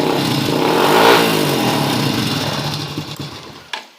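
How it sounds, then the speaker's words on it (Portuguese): A Honda Biz motorcycle engine, fitted with a new electric starter motor, runs with a close, buzzing mid-pitched idle that gradually fades and drops away, ending with a brief click. "A moto pegando tanto no start como no kit."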